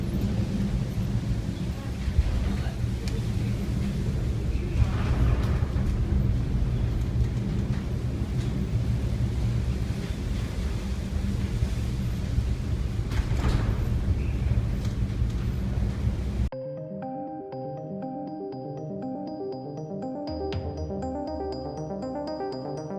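Rough broadband roar of a 3,400-ton vessel in a North Sea storm, wind and crashing water with low rumbles like distant thunder, steady and loud for most of the stretch, then giving way to layered music.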